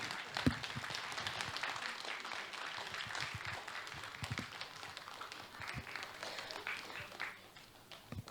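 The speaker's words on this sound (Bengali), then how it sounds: "একটু জোরে করতালি।" An audience at a dance academy's annual prize distribution breaks into sustained applause, a dense spread of hand claps with a few sharper individual smacks standing out early on, steady throughout and easing slightly at the end.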